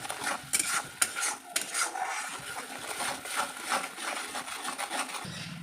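Onion with salt is stirred and sautéed in a pan with a spatula for mustard hilsa, giving a steady run of faint scraping and clinking strokes against the pan, with no voice over it.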